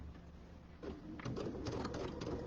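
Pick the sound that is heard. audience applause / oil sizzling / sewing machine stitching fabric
sewing machine stitching fabric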